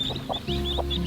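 Backyard hen clucking near her two chicks on a farm, with soft repeated clucks and faint high chick peeps over a steady low background hum.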